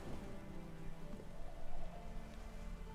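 Steady rain falls outdoors in The Witcher 3: Wild Hunt, beneath a tree hung with corpses in open countryside, a continuous soft hiss at moderate level with no voices.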